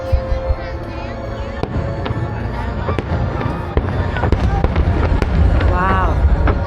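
Pattaya International Fireworks show bursting overhead as seen from a balcony, loud repeated booms and crackles in rapid succession over a murmuring crowd, with a voice talking briefly.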